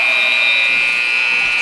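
A basketball game buzzer marks the end of the third period at an HBU vs Northwestern State women's game, with a loud, steady electronic tone held for the whole moment.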